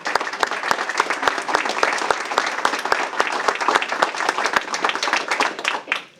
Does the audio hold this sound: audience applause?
yes